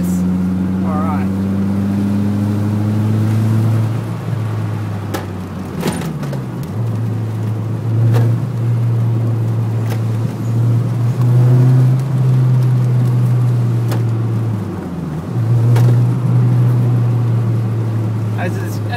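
A Toyota AW11 engine drones steadily while driving a mountain road, its pitch dropping and rising through two gear shifts, loud and close from inside the car, with someone talking over it.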